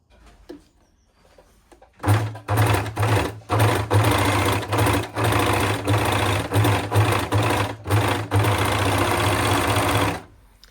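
An overlocker serger runs a 4-thread overlock stitch with a loud, steady mechanical whir. It starts abruptly, pulses through brief pauses and surges for about eight seconds, then stops, with no voices.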